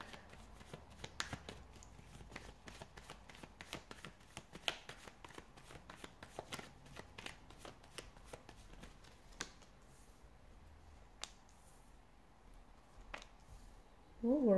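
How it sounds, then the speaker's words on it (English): Tarot cards are shuffled close and quiet, a run of crisp riffling snaps and soft slides that thins out toward the end. "give the cards a shuffle"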